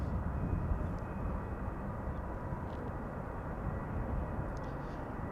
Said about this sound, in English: The airplane behind it, Dreamliner 10, KLM Flight 622, arriving from Atlanta,